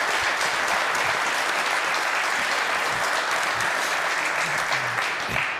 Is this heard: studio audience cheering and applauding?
yes